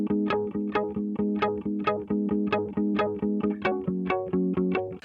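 A clean electric guitar plays a fast, repeating arpeggio of harmonized notes, each pluck sharp and distinct with no echo trailing behind.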